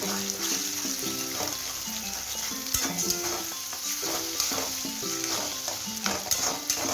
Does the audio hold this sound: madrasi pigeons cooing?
no